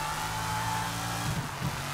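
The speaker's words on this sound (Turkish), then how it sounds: "Burada arabayı dağıtmamaya dikkat edelim" A car engine in the video game Sleeping Dogs holds a steady drone, then grows rougher toward the end with a couple of brief surges.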